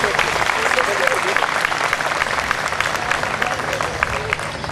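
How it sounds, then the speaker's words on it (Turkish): Dense audience applause at a school welcome event, a steady wash of many hands clapping close and loud throughout, with no pause. "Hepinizi alkışlıyoruz."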